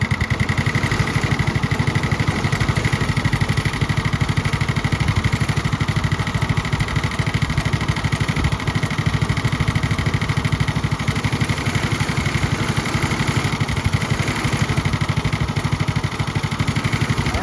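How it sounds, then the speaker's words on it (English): A vintage Tony Kart go-kart engine idles steadily with a raised idle, a loud, continuous, buzzy drone that stays even and close for the whole stretch, with no voices over it. "All right, I turned the idle up."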